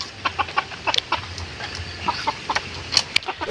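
A brooding hen sitting on a clutch of eggs clucks softly in short, irregular bursts close by, with a few sharper chicken notes over a quiet rumbling background.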